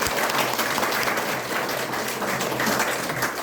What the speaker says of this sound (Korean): 진심으로 감사의 박수를 드려야 되겠습니다.